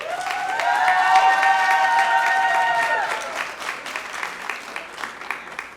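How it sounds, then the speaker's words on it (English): An audience at a Hispanic Heritage Month celebration breaks into loud applause with whoops and cheers that peak early, then settles into thinner, scattered clapping. "I think Maria may get the loudest round of applause for all"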